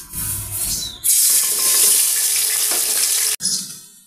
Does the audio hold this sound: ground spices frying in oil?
yes